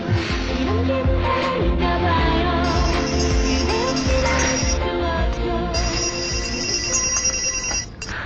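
A telephone rings loudly and repeatedly for an incoming call, its ringtone pattern continuing over faint background music, with no one speaking.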